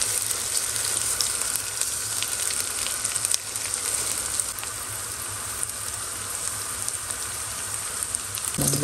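Rice sizzling steadily as it fries with chilli and garam masala in a pan for bhuna khichuri, a dense, even crackle that continues close and unbroken with no talk.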